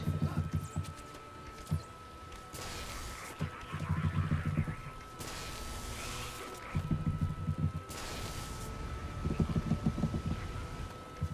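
Rain from a spell in the video game Magicka falls in repeated bursts of hissing patter, each a few seconds long, over a low rumbling game soundtrack.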